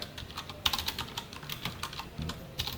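Fast, close keyboard typing of Java code, a quiet irregular run of key clicks with a few sharper taps and no talk.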